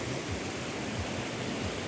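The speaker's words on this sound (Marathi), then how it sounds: "हे वावरामधून पाणी वाहत आहे" Floodwater of the Godavari river pouring across farm fields, a constant loud rushing roar with low rolling pulses, alone without speech.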